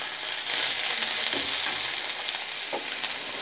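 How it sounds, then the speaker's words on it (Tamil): Cabbage and onion sauté in a pan for a cabbage chutney, giving a steady, close sizzle with a few brief stirring scrapes throughout. "வெங்காயம் லேசாக வதங்கினதும் முட்டைக்கோஸையும் போட்டு நல்லா வதக்கிடணும்"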